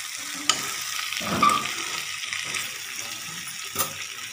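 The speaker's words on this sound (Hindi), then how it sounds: "अब इसको हम भूनते हैं फिर 10 मिनट के लिए।" Ivy gourd (kundru) roasting in a pan for a home-style sabji, giving a soft steady sizzle with a few stirring scrapes and clinks scattered through, fairly quiet and without speech.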